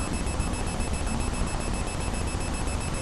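A toy's electronic beep button gives a steady, high tone that holds for the whole stretch with no pauses, over a loud constant hiss.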